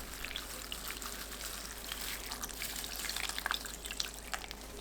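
Cold water pours steadily into a bowl of Korean bean sprout and seaweed cold soup, a continuous close splashing trickle with scattered drips, no talking.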